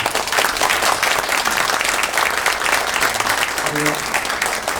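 A crowd at a political think-tank launch event applauds warmly, dense continuous clapping that holds strong the whole time, with a faint voice briefly audible near the end.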